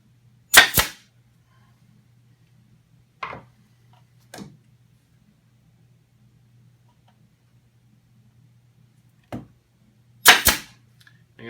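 Staple gun fixing material in place on a bulb horn and air raid siren build, a few sharp isolated snaps spread over several seconds against a quiet low hum, with a double shot near the end.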